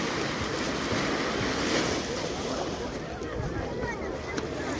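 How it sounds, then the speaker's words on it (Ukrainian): Dense, roaring wash of sea waves breaking nearby, continuous and loud, with surges swelling and fading. "Звук моря, да?"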